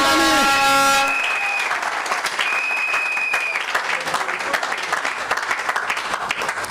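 A church congregation at a Sunday service breaks into loud, sustained applause and cheering, dense and continuous after a brief musical chord at the start, with voices mixed into the clapping.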